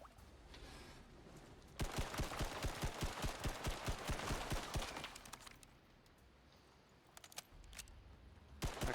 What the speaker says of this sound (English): Okay, used about an entire stack of assault rifle ammo so far.